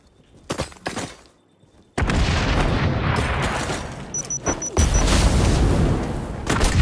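A grenade blows up in a video game with a sudden heavy boom that gives way to a long, loud, rumbling roar. Faint clicks and small noises come before the blast.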